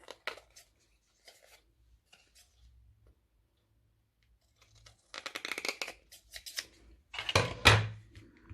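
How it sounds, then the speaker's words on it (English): Scissors trim the paper edges of a mini book in short crisp snips, sparse at first and then a quick cluster of louder cuts near the end, close and with no talk. "turn the book upside down and then just trim off any of the edges"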